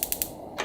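A gas stove burner clicks three times in quick succession, then catches with a brief soft whoosh, close and fairly quiet.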